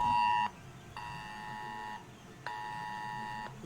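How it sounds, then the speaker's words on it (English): A curfew alarm buzzes in repeated steady electronic tones, each lasting about a second with short pauses between, faint over a low background hum. "it's the alarm for the curfew."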